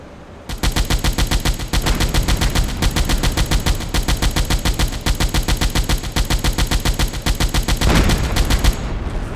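Rapid, loud bursts of submarine deck gun fire from Silent Hunter 4, shots repeating in a fast, even rhythm for several seconds with no voices.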